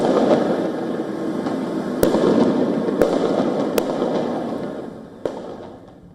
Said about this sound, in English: sounds of flash bangs, firecrackers were heard exploding in the distance